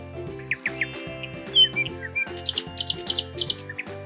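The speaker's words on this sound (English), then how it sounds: "Robins make a sound called a chirp." A robin chirping in a garden, a run of bright, high tweets and short trills, several in quick rhythmic succession near the end, heard clearly over a steady musical background.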